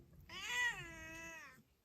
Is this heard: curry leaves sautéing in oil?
no